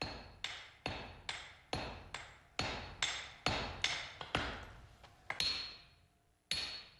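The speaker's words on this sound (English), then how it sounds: "The next stage is forging, where the steel is strengthened by hammering." Hammer blows on steel while forging a katana blade, a steady series of sharp ringing strikes roughly every half second, each decaying quickly, slowing and softening slightly toward the end.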